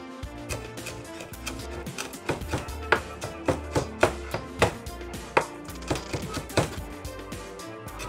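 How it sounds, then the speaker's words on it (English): A knife finely chopping fresh basil leaves on a board, a steady run of crisp, close taps at an even rhythm with no talking. "I'm taking my time to just nicely and finely chop the basil"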